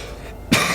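A single short cough, close and sudden, breaks a quiet background.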